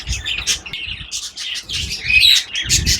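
Golden pheasants call in a quick run of sharp, chirping bursts with brief gaps between them, close and fairly loud, with no speech.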